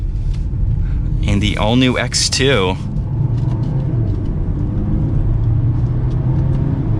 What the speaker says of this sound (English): we're going to give it one last acceleration for today's video